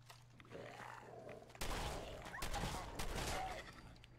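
Shotgun blasts in the video game Fallout 4, fired at a tough enemy: a sudden broadband boom lands after a quieter stretch, followed by a dense burst of further shots and impacts, loud and close.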